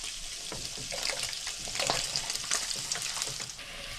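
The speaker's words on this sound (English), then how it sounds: "I'm going to fry my onions and everything" Onions fry hard in rendered beef fat for a chilli, making a loud, dense sizzle close by with frequent stirring scrapes and pops through the whole stretch, with no voices.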